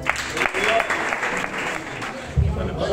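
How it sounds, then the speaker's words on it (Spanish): Applause from a church congregation during a service, a dense sustained clatter of many hands with a brief louder burst near the end and some voices mixed in. "Es aplauso para el Señor."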